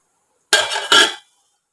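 A lid set onto a cooking pan while laddu mixture cooks on low flame, giving two close metallic clanks in quick succession, then silence.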